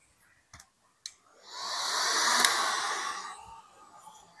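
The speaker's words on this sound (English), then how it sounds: "Okay, heat gun's on low." A heat gun on its low setting, preceded by a few clicks, then a steady airy whoosh that swells for about two seconds and fades, close and fairly quiet with no talk.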